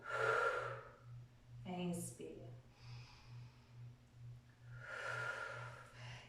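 Slow, audible exhales and inhales during a hip and shoulder mobility exercise class, rising and falling in long airy swells under a steady low hum, with a brief voiced sound in the middle.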